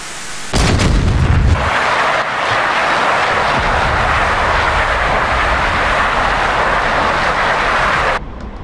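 A missile strikes and destroys a Roland SAM site in the DCS World combat flight simulator, with a sudden loud explosion followed by a sustained roar of a Su-25T jet engine.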